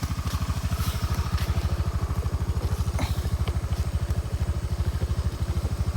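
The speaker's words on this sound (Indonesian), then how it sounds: "Kita membawa motornya pelan-pelan saja" A motorcycle engine rides slowly along a forest trail, its low, steady pulsing thump close and continuous with faint rattles and clatter over the top.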